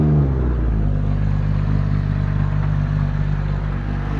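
A Jeep XJ engine runs steadily close by, a low continuous rumble with a faint rattle, holding an even idle the whole time.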